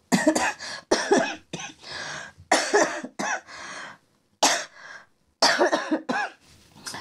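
Repeated bursts of coughing, close and loud, in uneven clusters with brief pauses between them; no talking.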